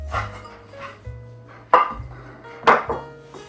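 Dry ingredients, including coconut flour, are stirred together in a bowl for a piña colada pineapple cake, with a few soft scraping strokes and two sharper scrapes over a low steady hum.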